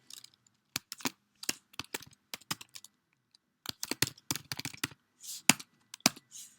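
Keystrokes on a computer keyboard come in short bursts of close, crisp clicks with brief pauses between words, typed alone with no talking.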